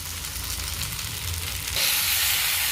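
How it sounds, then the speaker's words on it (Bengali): Spices for Bengali mustard chicken fry in a pan, a dense, steady sizzle with soft stirring that grows louder and brighter partway through, close by and without talk. "আবারও ভালো করে নেড়ে চেড়ে মশলাটা মিশিয়ে নিতে থাকবে।"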